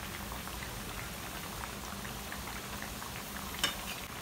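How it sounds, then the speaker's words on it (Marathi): Poha vada deep-fry in hot oil, giving a dense, even bubbling and fizzing that runs continuously with one brief clatter near the end and no talking. "जेव्हा यातले बबल्स कमी होतील तेव्हा एक बाजू आपली पूर्ण फ्राय झालेली असेल"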